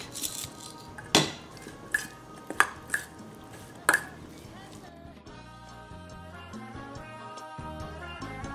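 A spoon clinks sharply against a bowl several times while soy sauce, sesame oil and black pepper are stirred into ox bone soup (seolleongtang), followed by a soft, muted stretch of quieter stirring.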